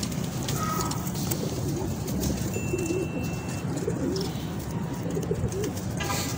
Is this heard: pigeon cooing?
yes